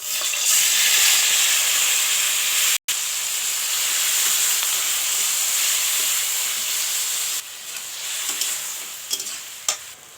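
Steady loud sizzling of tomatoes frying in hot white oil in a kadai, hissing continuously, then stirring scrapes break through toward the end.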